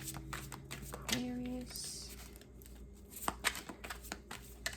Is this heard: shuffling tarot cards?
yes